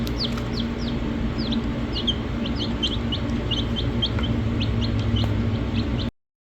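Chickens in a small makeshift off-grid coop cluck and chirp repeatedly over a steady background hum, the calls close and frequent before cutting off abruptly.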